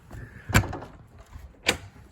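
The rear door of a 2021 Aspen Trail 3650BHDS travel trailer opens with two sharp clunks, a latch click then a thud about a second later, close and fairly loud, with no speech.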